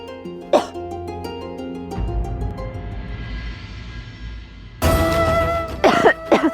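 A light cough in a devotional drama, a short throaty burst near the start and another pair of rough coughs near the end, close and fairly loud, separated by a stretch of music and ambience.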